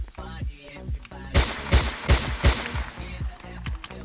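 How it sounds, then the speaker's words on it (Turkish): Gunfire from a small gun in a video game, several sharp shots in a quick uneven burst, near and loud over game background noise. "Şu küçük silahla da biraz sıkalım."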